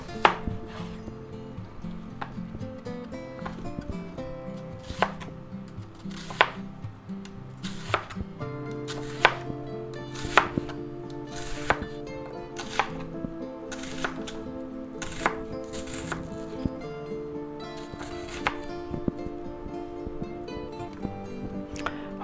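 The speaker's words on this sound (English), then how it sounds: "now we're going to get our onion, and we're going to cut that in half." A knife cuts through an onion on a board while a veggie spaghetti dinner is being made. Crisp, steady chops land one after another at close range, with no talk over them.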